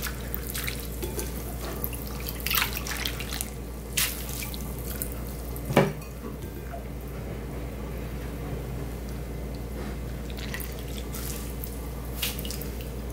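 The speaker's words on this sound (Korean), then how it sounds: "이걸 이렇게 주물러서 깨끗하게 한 두 분만 헹궈줄게요" Soaked dried seaweed rinsed and rubbed by hand in a basin of water in a kitchen for mussel seaweed soup: soft continuous sloshing and dripping with a steady hiss, plus one sharper splash midway.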